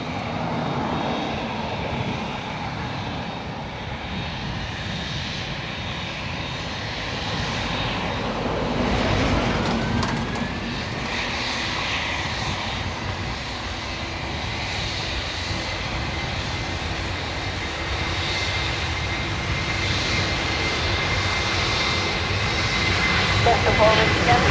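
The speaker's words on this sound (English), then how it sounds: "Lingus A330 lining up to depart for JFK." Aer Lingus Airbus A330 jet departing Dublin Airport, a broad continuous engine roar heard from a distance that swells gradually toward the end, with a person talking over it at times.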